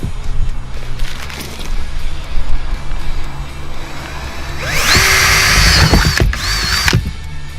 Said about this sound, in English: now that we have the areas marked where we want to drill a hole, we start putting holes in this thing